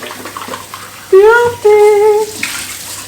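Water gushes from a tap into a raw chicken's cavity, making two rising gurgling, hollow filling tones close by, with a little splashing after.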